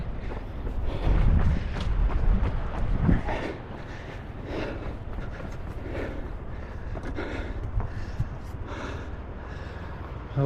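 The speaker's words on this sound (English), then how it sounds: "Windy out in the ocean today" Wind blowing along an ocean coast near a lighthouse, a steady broadband rush with heavier gusty buffeting in the first few seconds, then a softer continuous roar.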